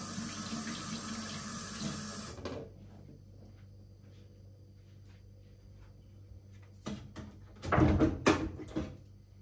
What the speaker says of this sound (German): Hände waschen nochmal.